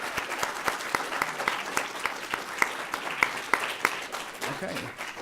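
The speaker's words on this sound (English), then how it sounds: "let's give a round of applause for all the speakers today" Audience applause for the speakers at an academic conference session, a moderate room of clappers with distinct, sharp individual claps standing out, tapering off near the end as voices emerge.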